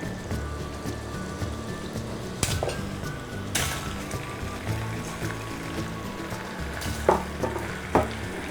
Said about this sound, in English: You should add your butter first because that's going to splash the most.